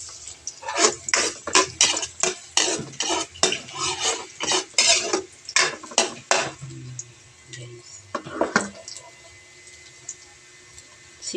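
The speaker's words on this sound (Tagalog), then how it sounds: "maggisa muna tayo ng bawang." Garlic and ginger sautéing in a pan for chicken pastel, a steady run of scraping, clinking spatula strokes against the pan over a light sizzle, close and rhythmic, thinning out toward the end.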